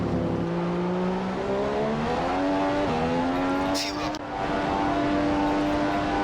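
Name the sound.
Formula 1 car engine at Monza in F1 2015 video game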